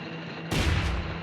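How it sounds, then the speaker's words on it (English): A bunkhouse explodes in a Nancy Drew video game, a sudden deep boom bursting out of quiet background and rumbling on for under a second, loud and close. "Does the sheriff have any idea why the bunkhouse exploded?"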